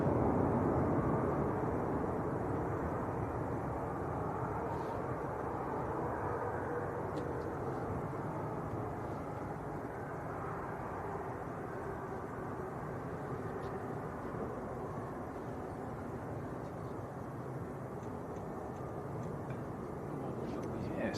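A heavy airplane takes off at Manchester Airport, heard from a distance as a steady broad roar lasting throughout, with faint commentary over it.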